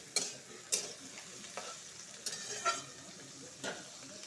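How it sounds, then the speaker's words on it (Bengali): Pumpkin and onion fry together in a pan. A low, quiet sizzle is broken by about six sharp spatula scrapes and knocks against the pan, spaced unevenly and heard up close with no talking. "পেঁয়াজের সাথে মিষ্টি কুমড়োটা ভালো করে ভাজবো।"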